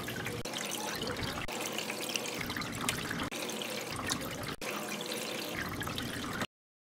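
Hydroponic nutrient solution pours into a bowl of water in a steady, close trickling stream that breaks briefly a few times, with no voices.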